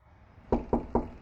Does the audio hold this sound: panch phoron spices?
no